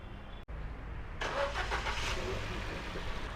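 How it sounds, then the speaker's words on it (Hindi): A Ford EcoSport engine cranks briefly and catches, then settles into a steady running idle, heard close by with no talking; the car has a P0036 oxygen sensor heater circuit fault. "तो गाड़ी को स्टार्ट करते हैं और लाइव डाटा में चेक करते हैं पहले।"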